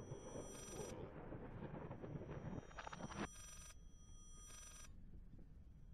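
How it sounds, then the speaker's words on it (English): A telephone rings in the horror game Layers of Fear, in several short, faint metallic bursts over a low ambient rumble. "Oh, it's a telephone ringing."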